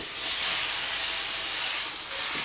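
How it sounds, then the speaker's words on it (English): Food sizzling in a hot pan, a loud continuous hiss and spatter that holds steady, briefly dips near the end, then resumes. "that sizzles, you're going to get a smell"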